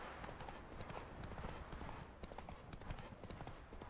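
Roach the horse trots in The Witcher 3, a quick, steady run of close hoof clip-clops on firm ground with no pauses.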